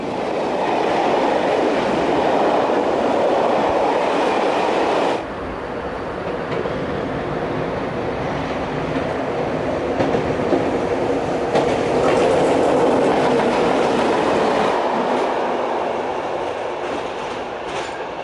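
A freight train hauled by an SNCF BB 8100 electric locomotive rumbles past close by for the whole stretch, with a steady roar of wheels and rolling stock and faint rhythmic clicks over the rails.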